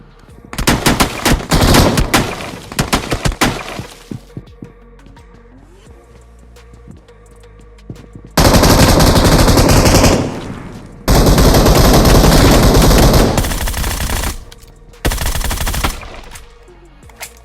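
Loud bursts of M249 machine gun fire in the BGMI PUBG Mobile game: a rattling stutter of short shots at first, then three long sustained automatic volleys with brief gaps between them.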